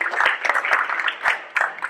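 Office meeting crowd applauding, a short burst of scattered hand claps close by, uneven and lively, lasting under two seconds.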